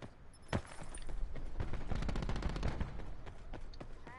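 Shotgun fire in a Call of Duty Blackout match: dense, rapid bursts of gunshots and game combat noise, loud and continuous, with one sharper blast early on.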